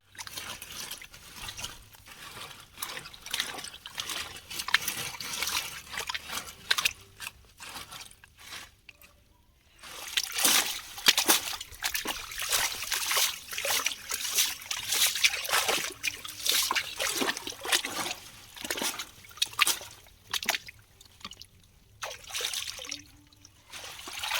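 Chopped taro greens are washed in a mesh strainer under water, with trickling, splashing and sloshing and a short quieter gap before the splashing resumes, close and moderately loud with no talking.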